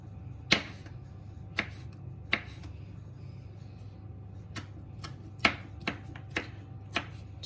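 Kitchen knife chopping a tomato into small pieces on a cutting board: sparse, sharp, close taps at an uneven pace, with quiet gaps and no talking.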